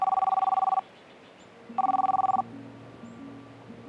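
A telephone rings in two bursts of rapid electronic trilling, each under a second, with a low hum and faint background tones between the rings.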